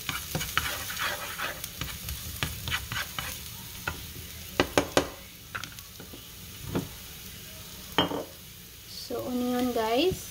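Onion stir-frying in a pan while a Thai basil chicken dish is being made: a soft, steady sizzle with repeated scraping and clinking of a utensil against the pan, close and moderately loud, with brief clatters near the end.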